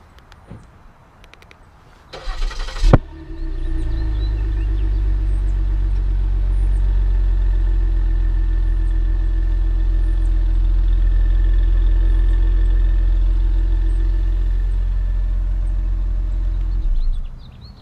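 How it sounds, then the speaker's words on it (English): A 2016 Ford Taurus SHO's 3.5L EcoBoost twin-turbo V6 catches with a brief cranking burst after remote start, then settles into a smooth, steady, close idle. "Sounds good from the twin turbo V6."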